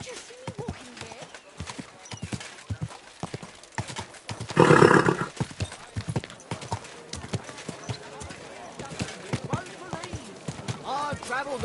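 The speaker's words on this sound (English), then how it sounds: "Your horse nearly trampled me!" Horse hooves clop steadily along a medieval road in Kingdom Come: Deliverance II, with a loud whinny bursting out midway and people talking over the hoofbeats throughout.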